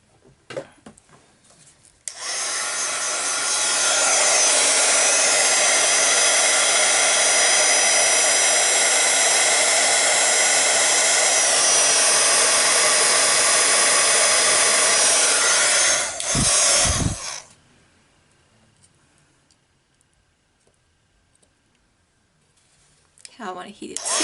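A heat tool blows steadily and loudly for about fifteen seconds during two-toned heat embossing, then cuts off, leaving near silence.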